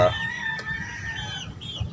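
A gamefowl chicken during its daily exercise routine at a small breeder's yard, giving a short, close crow and clucks over a brief stretch, with low background noise.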